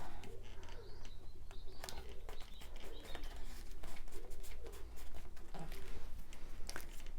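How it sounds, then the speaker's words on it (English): Soft cooing of a wood pigeon heard outdoors at a distance, faint repeated calls over background noise and occasional clicks and rustling nearby. "I think that's a wood pigeon."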